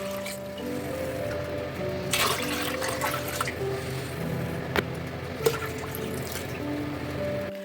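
Two and a half litres of water are poured for jars of pickled green tomatoes, a steady close splashing stream with occasional drips and small knocks.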